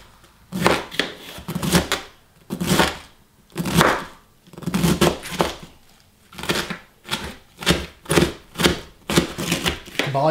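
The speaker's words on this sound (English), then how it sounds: "It just says 5 cups of chopped green tomatoes." Green tomatoes chopped with a knife on a board for chow chow, a steady series of close, crisp cuts in clustered bursts with short pauses, a little faint talk between.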